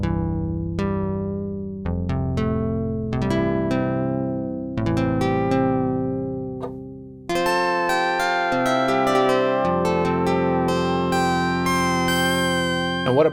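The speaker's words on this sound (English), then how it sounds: "Like just a little chill E piano sound like this. We just sub-oscillator it." A GS Bree6 synth plays a chill electric piano patch with a sub-oscillator, sounding a run of mellow chords and notes with warm low end, loud and close, with no one speaking.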